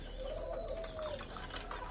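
Pair of pink-toned pet doves cooing, a soft, low, rolling coo heard close up, with faint background noise.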